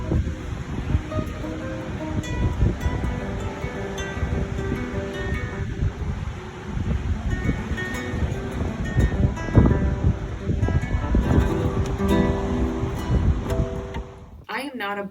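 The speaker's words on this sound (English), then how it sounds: "I'm recording you, but it's hard to hear over the waves." Ocean waves wash continuously on a morning walk along the shore, a steady rumbling surf mixed with wind buffeting the microphone, with a voice speaking faintly beneath.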